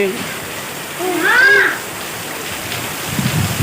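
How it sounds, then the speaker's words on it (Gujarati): Rain falls steadily during the season's first rain after a hot spell, a constant close wash of droplets with a voice heard briefly over it. "હા વરસાદ ચાલુ થઈ ગયો છે"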